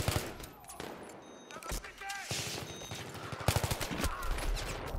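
Bursts of rapid gunfire crackle in a multiplayer shooter video game, sharp repeated volleys at moderate distance, with a player talking over the shots.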